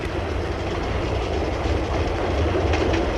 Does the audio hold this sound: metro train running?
yes